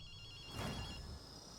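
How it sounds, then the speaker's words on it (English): A telephone rings inside a house in the video game Ghostwire Tokyo, a single bright trill rising briefly over quiet ambience. "Akito, you hear a phone ringing?"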